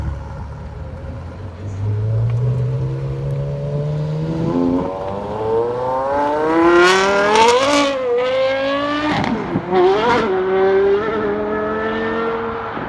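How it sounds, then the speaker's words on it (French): A Porsche Carrera GT's V10 engine howls as the car accelerates through the gears, the rising pitch dropping at each shift. It is loud and close, with tire noise in the background. "La Carrera GT avec son V10 hurlant et sa boîte de vitesse manuelle en carbone."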